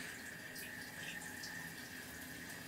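A tap runs steadily while hair is wetted for ballet hair styling, a continuous faint stream of water with no talking.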